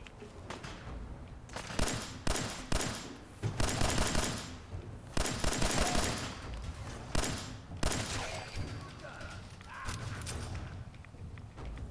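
Rapid gunfire bursts in the Fallout 4 video game, dense volleys of shots repeating over and over with short gaps, loud and continuous throughout.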